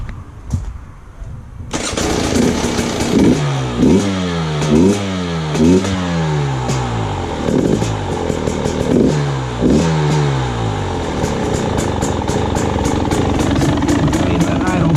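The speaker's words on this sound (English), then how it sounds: "Start her up and see where the idle is." A 2020 KTM 300 XC-W TPI two-stroke dirt bike, fitted with an aftermarket idle screw and a richened mixture, starts after a moment of near quiet. It revs in rising and falling blips, then settles into a loud, steady, buzzing idle up close.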